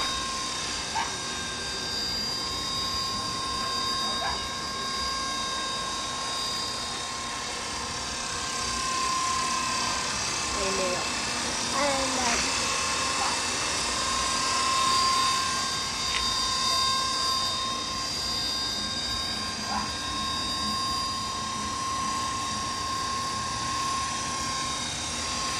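Steady high-pitched whine of a King v2 RC plane's brushless 3900kv motor running continuously, with slight pitch swells throughout.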